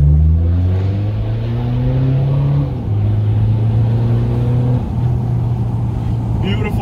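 A BMW 520d diesel engine revs hard, its tone climbing in long sweeps, dropping, then climbing again, loud and close.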